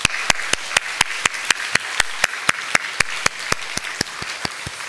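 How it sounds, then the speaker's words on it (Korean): A church congregation claps together in a steady unison rhythm, giving about twenty sharp, evenly spaced claps over several seconds without talk. "정말 우리 감사와 또 격려의 박수."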